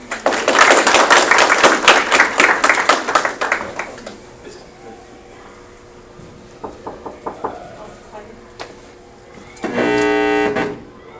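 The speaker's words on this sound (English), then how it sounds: "let's give Faiza a round of applause" Audience applause for a presenter at a data science lecture: a few seconds of dense clapping that thins out, then scattered claps and a short burst of tone near the end.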